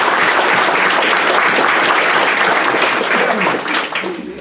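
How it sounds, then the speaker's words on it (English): Audience applause at a Rotary club celebration meeting, dense steady clapping from a room full of people that fades toward the end. "So please give them a round of applause."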